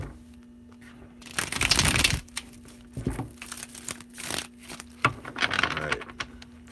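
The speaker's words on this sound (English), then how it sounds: "If I can get this shuffle right" Tarot cards being shuffled by hand, with several bursts of riffling and papery crinkling at close range, separated by brief pauses and a steady low hum underneath.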